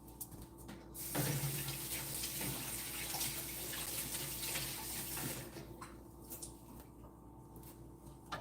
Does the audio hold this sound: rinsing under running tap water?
yes